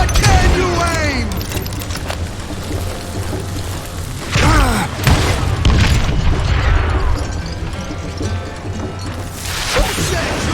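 Dynamite explodes in the Western shooter Call of Juarez: Gunslinger, loud booming blasts and crashing debris amid gunfire and game effects, with voices shouting over the chaos.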